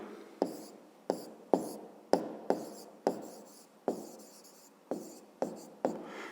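Pen or chalk strokes writing down a maths answer, a steady series of about ten crisp taps and scratches spaced roughly half a second apart, close and fairly quiet, with no talking.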